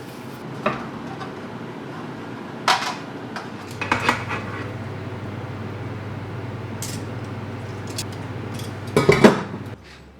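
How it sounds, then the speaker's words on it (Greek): Knife and tray clatter as roasted chicken gyros is sliced into layers on a metal tray: scattered clinks and scrapes over a low steady kitchen hum. "Κόβουμε σε στρώματα αυτό που ψήθηκε"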